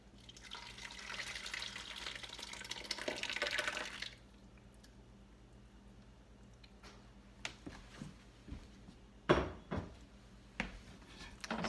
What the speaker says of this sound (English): I'm going to add the tomatoes.